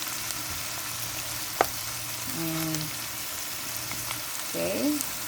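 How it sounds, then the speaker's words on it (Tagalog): Onions fry in a pan for beef menudo, a steady soft sizzle running throughout, with a sharp clink near the middle and brief faint tonal sounds from the kitchen later on. "habang pina-fried natin yung onions"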